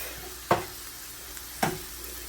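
Ground meat browning in a frying pan for a cheap budget meal gives a faint, steady sizzle, broken by two sharp spatula scrapes about a second apart.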